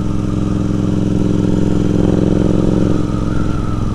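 A Royal Enfield Continental GT 650 motorcycle engine hums steadily at cruising speed, close and loud, with a slight shift in pitch as the rider changes throttle.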